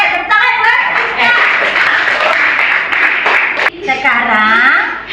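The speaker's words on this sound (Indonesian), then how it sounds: "Oke, tepuk tangan buat Rizka." Students in an Indonesian classroom clap for a classmate, a dense, lively burst of hand claps with children's voices and chatter mixed in throughout, briefly dipping near the end before picking up again.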